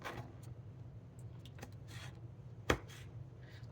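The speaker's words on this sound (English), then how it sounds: "I like to slice them up" A knife slicing vegetables on a cutting board for pasta salad, a few sharp separate cuts standing out over quiet kitchen background, with one loud chop near the end.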